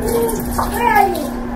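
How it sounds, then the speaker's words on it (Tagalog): Tap water runs steadily over vegetables being washed in a home kitchen, a continuous close splashing wash with a voice faintly in the background. "Hugasan natin to para maalis yung mga alikabok or mga dumi-dumi ba."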